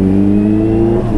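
Kawasaki H2 supercharged motorcycle engine revving, a loud continuous throaty drone with strong low harmonics, close and unbroken for just over a second.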